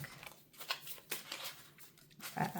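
A deck of tarot cards being shuffled, soft papery riffles and slides in short bursts, faint and close.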